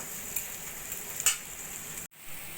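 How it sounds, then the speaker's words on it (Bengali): Onion and garlic sizzle in hot oil as salt and turmeric are stirred in, a steady frying hiss with a few scraping stir strokes and a brief cut near the end. "নুন আর হলুদটা পেঁয়াজ রসুনের সঙ্গে মিশিয়ে নেবো"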